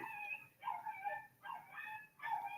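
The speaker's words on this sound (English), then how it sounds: "There is a dog barking outside the window." Dogs bark and whine outside a window, giving a few drawn-out, yelping calls at a steady pace, distant and faint.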